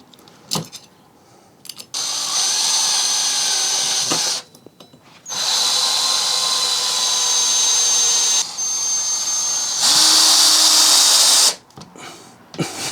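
A power drill drives screws to mount tool hooks on a wall, running in several sustained loud bursts of whining motor, each a few seconds long, separated by short pauses with small clicks and handling noise.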